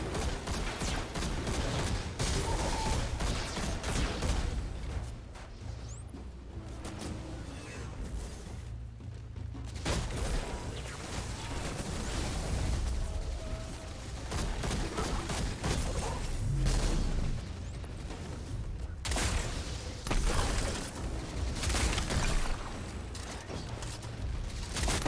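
Grenade launcher rounds burst repeatedly in a video game, a dense run of loud booms and crashing blasts rolling one after another with short lulls between.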